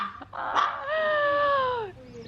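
A dog gives a drawn-out, whining yelp that holds steady for about a second before trailing off, close by, with a short sharper sound just before it and no speech over it.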